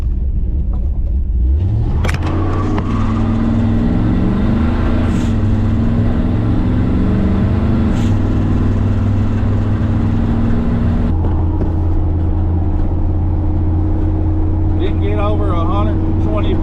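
A car with a slipping automatic transmission revs hard at wide open throttle, the engine note climbing and holding in a loud steady drone with a couple of shifts, while people talk over it close by.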